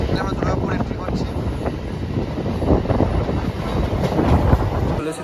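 A local MEMU train between Asansol and Bardhaman pulls into Durgapur station with a steady, loud rumble of wheels and rail, heavy wind buffeting the microphone, and no pause in the noise.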